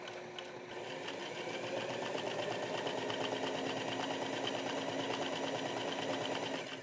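A sewing machine runs steadily as it stitches collar pieces together, its fast, even needle rhythm holding at moderate loudness close by, with no talking over it.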